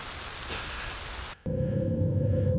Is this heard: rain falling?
yes